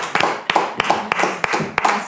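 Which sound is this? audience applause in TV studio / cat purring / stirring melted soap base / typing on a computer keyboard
audience applause in TV studio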